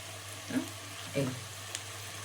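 Brinjal and potato fry in a pan with a soft, quiet sizzle, broken by a couple of brief stirring scrapes.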